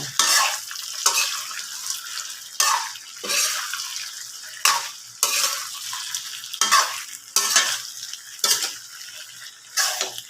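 Garlic shrimp frying in Angkor butter in a pan, stirred with a utensil in repeated bursts of scraping and sizzling about every two seconds, with a steady sizzle underneath, close and fairly loud with no talking.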